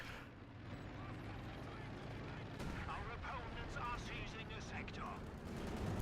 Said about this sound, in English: Light artillery barrage to help defend that middle VP